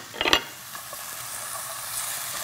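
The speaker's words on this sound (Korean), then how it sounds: "이제 양파가 잘 볶아졌으면 여기에 다진 마늘 넣어줄게요." Minced garlic hits a pan of sautéed onions with a brief clatter, then a soft, steady sizzle and stirring continue close by.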